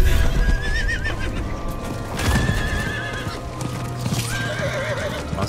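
Horse neighing and clip-clopping hooves in the Diablo IV video game, a whinny rising over steady hoofbeats with game music and ambience, with no talk.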